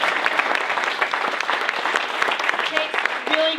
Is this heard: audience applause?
yes